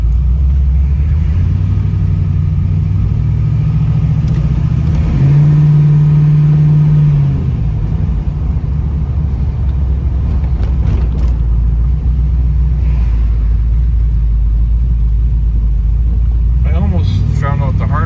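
Car from 1981 in NASCAR style with a 416 stroker LS3 V8 gives a loud, steady low engine rumble through a long drive, with one clear rising rev in the middle and a further swell near the end, and voices talk over it.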